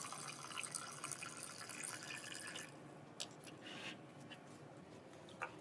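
Water runs steadily from a tap into a film developing tank, a continuous splashing fill that fades partway, followed by a few faint drips and small knocks, quiet and close.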